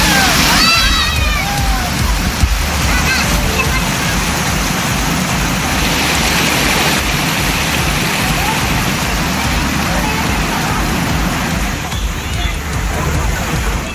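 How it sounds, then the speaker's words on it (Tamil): Water gushing out of the Sayakkammai reservoir near Karaikudi, Sivaganga district, and falling like a waterfall where families bathe. A loud, continuous rushing roar fills the whole stretch, with faint crowd voices mixed in. "சாயக்கம்மாயில் இருந்து அருவி போல வெளியேறிய நீரில் பலர் குடும்பமாக குளித்து"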